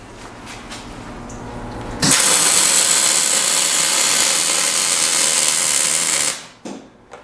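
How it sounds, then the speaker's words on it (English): Metal being welded in a mod shop: a steady, harsh crackling hiss starts abruptly over a low hum, holds for about four seconds, then cuts off, followed by a few faint clanks. "I'll weld this."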